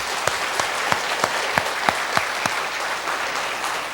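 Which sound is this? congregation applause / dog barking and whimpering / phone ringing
congregation applause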